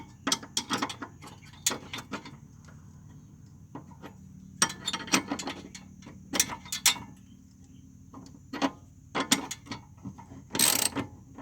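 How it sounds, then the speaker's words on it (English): A ratchet wrench works loose a screw on the inner side of a rear lower control arm of an EF9 Honda Civic, in bursts of quick clicking with pauses between them and a harsher rattle near the end. "firstly we need to take out the screw"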